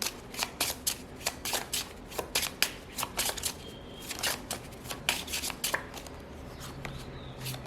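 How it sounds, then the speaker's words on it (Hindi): Tarot cards are shuffled and drawn by hand, giving quick, soft riffling bursts and papery flicks in an irregular rhythm, close and quiet, with brief pauses between handfuls. "सबसे पहले हम मास्टर कार्ड पुल आउट करेंगे लियो के लिए।"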